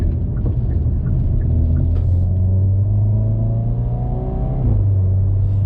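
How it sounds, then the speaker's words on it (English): The engine of a Hyundai Veloster N hums close up in the cabin, then rises in a smooth rev-matching blip on a downshift and settles back to a steady drone under the road noise. "the rev match is so nice. I love when it downshifts like that"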